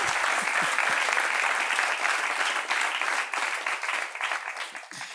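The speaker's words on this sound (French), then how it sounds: "Applaudissez le nom." A seated audience bursts into dense, sustained applause, loud and even at first, then gradually tapering off toward the end.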